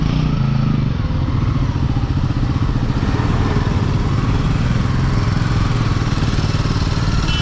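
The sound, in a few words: loud motorcycle riding past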